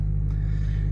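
A Tofaş car engine, a 2001-or-newer model, idles steadily with a loud, continuous low rumble and no break or change in tone.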